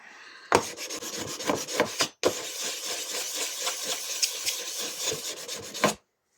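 Wet and dry sandpaper wrapped on a flat wood block is rubbed over the burred blades of a STIHL HS 45 hedge trimmer, giving brisk rasping strokes in a continuous run with one brief pause.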